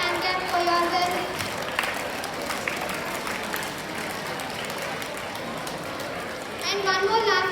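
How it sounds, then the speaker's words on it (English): Children at a school language club clapping for themselves, a dense ripple of applause mixed with chatter that eases off and then swells again near the end. "Let's a big hand clap for yourself."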